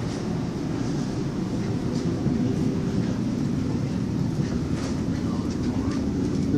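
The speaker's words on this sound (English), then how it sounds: "This is the big train" Metro-North train bound for Port Jervis, a steady loud rumble of rolling stock heard from nearby, constant and unbroken with faint clatter over the whole stretch.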